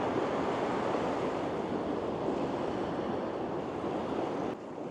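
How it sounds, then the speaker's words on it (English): Ocean waves wash onto the beach at Kingscliff, New South Wales, at sunrise, forming a steady, moderately distant surf roar that drops slightly near the end, with no talking. "I think it's quite mesmerising just coming and watching and listening to the waves."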